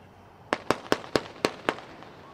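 A 60-shot firework cake fires a steady run of six sharp, evenly spaced bangs at a fireworks demonstration, each a loud crack with a brief fading tail, heard from a moderate distance.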